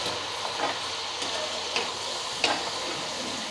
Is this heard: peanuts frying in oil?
yes